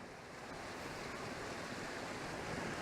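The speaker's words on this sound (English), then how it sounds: "from this snow melting, we've got a neat little waterfall" Meltwater from snow on Longs Peak spills as a small waterfall, a steady broadband rush of falling water that holds constant throughout, fairly faint and with a hint of wind noise.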